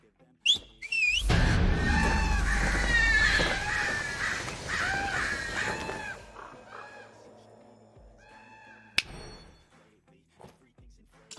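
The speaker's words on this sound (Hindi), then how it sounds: "एक एक बंदा कौवे देख रहा है ऊपर।" Crows caw and whistle in a video game. The calls are loud and overlapping at first, then thin out over a dull background rumble with a few sharp clicks, and no talk.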